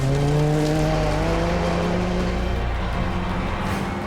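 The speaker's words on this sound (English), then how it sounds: "I'm getting to try out rally cars competing in the Tour of Cumbria." Rally cars competing in the Tour of Cumbria roar loudly and steadily as engines rev close by, a continuous high-pitched motor drone that shifts slightly in pitch throughout.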